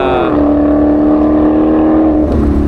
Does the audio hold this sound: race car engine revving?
yes